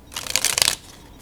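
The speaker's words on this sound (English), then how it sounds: "Riffle shuffles alright and everything" A brief riffle shuffle of a thin Copag or Penguin deck of playing cards, a fast flurry of crisp flicking that builds and stops abruptly, then near silence.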